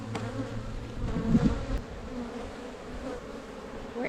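Honey bees buzz in a dense, steady drone around an open hive during an inspection, with individual bees whining close by.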